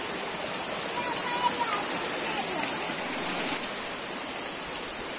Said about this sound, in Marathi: पळयात हांगा बारीकसो झरो